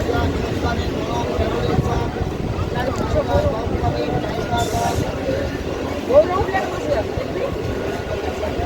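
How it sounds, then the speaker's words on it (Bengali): A Sealdah–Canning line local train pulls into Jadavpur station, its steady, loud broadband rumble running throughout with voices talking over it. "ট্রেন এখন আমাদের চলে এসছে যাদবপুরে।"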